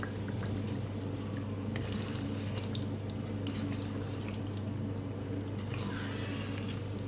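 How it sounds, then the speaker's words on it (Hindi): Water poured into a pan of egg curry masala, a steady soft trickling and splashing with faint drips over a constant low kitchen hum. "क्वार्टर कप में पानी डाल रही हूँ इसमें।"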